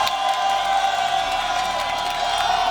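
Esports arena crowd at a Rocket League RLCS 2021-22 Winter Split Major match between Version1 and FaZe Clan, cheering and whooping in a loud, sustained roar that holds steady throughout.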